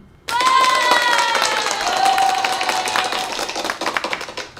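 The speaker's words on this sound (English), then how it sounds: "That's going to get an applause." Following a short silence, clapping begins abruptly. It stays close and loud with sharp, distinct claps and some tonal ringing underneath, then thins into scattered claps toward the end.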